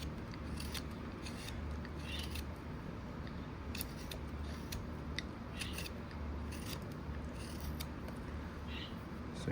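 A whittling knife carves and rounds off a small wooden wizard figure, producing repeated crisp scraping and shaving strokes at close range over a low steady hum, with no talking.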